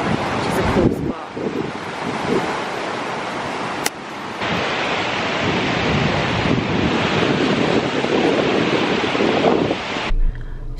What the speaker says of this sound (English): the waves really gather